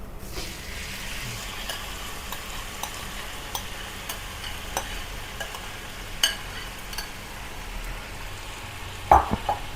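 Chicken and potato masala sizzling steadily in a pan while being stirred, with a few soft scrapes and taps of the spoon against the pan.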